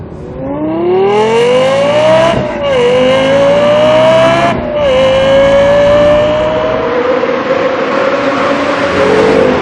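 A Lexus LFA supercar engine revs hard while driving, a loud, close, rising howl that climbs through gear changes with brief dips between pulls.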